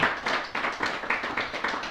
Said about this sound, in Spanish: ¿Por qué no le das un fuerte aplauso a Él?